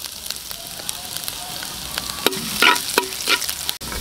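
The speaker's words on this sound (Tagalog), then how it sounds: "Gisa tayo." Ginger sautés in a hot pan with a close, crackling sizzle, broken by scraping stirs and a few sharper spatters, while a voice talks faintly in the background.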